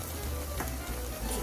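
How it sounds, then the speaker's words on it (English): Ground beef in tomato sauce stirred in a pan, a steady low sizzle of frying with faint scraping throughout, no voices. "Now we're gonna add tomato sauce. Stir it."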